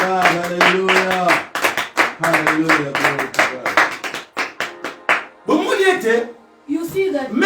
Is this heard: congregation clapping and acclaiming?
yes